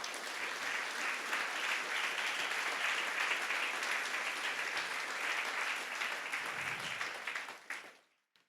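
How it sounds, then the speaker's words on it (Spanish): A church congregation claps for the Lord in a sustained, even round of applause that carries on steadily before fading out abruptly at the end. "Denle un aplauso al Señor,"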